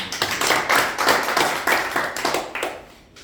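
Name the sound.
congregation applause of encouragement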